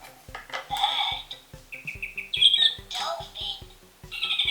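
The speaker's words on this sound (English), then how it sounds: "Bird." A Fisher Price Laugh & Learn toy book plays a bird call through its small speaker, chirpy squawking tones over a bouncy electronic backing beat with steady plucked rhythm, loud and close.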